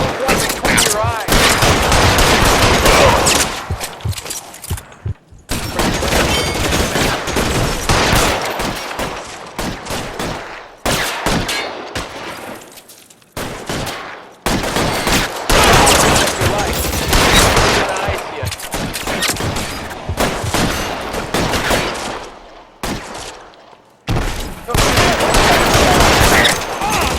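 Heavy gunfire in an L.A. Noire shootout: loud bursts and rapid volleys of shots crowd most of the stretch, broken by a few short pauses, with some voices mixed in.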